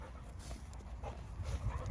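Dog whimpering faintly at low level while playing with a ball during a fetch game, soft whines over steady background rumble.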